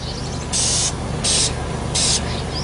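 Spray paint hisses onto a plastic bottle being coated yellow for a homemade fishing jug, in three short, even bursts with brief pauses between them, close and fairly loud.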